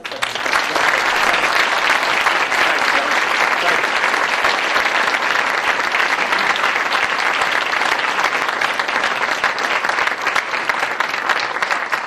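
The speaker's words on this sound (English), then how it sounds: "please a round of applause" An audience at a formal event gives sustained applause, a thick, continuous roar of many hands clapping at full strength from start to finish with no break.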